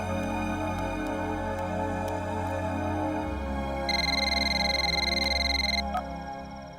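Telephone ringing in a Hindi-dubbed South Indian movie scene, a steady electronic ring tone that sounds for about two seconds over a low background music bed, loud and close, with no talking.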